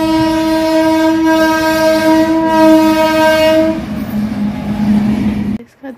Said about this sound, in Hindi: उधर से आ रही है ट्रेन अभी।